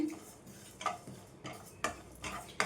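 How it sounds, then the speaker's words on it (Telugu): About two tablespoons of sesame seeds being dry-roasted in a pan for a peanut spice powder: soft scattered ticks and scraping stir strokes against the pan, fairly faint, with no voices. "రెండు టేబుల్ స్పూన్ల వరకు నువ్వులు వేసుకోండి వేసేసుకొని ఇవి కూడా మంచిగా వేయించుకోవాలి"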